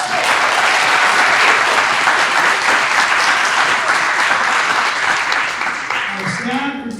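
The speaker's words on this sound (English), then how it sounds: "Big applause for them" An audience gives a loud, sustained round of applause for scholarship donors at an awards event, with steady dense clapping that eases slightly near the end as a voice begins.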